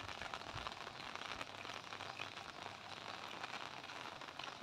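Rain falls in Phayao, Thailand, as a soft, continuous hiss of drops on surfaces nearby, fairly faint and even throughout, with no talking.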